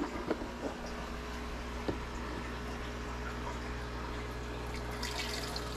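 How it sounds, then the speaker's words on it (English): Water poured gently onto driftwood in a planted aquarium, a soft steady trickle and splash held at low level throughout. "I try to pour it on the driftwood as much as possible."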